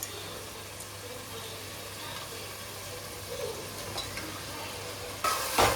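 Chicken mixed with curd sautéed and stirred in a pan for biryani, a steady low sizzle with soft scraping of the spoon throughout, close and continuous, with a louder clatter of stirring at the very end.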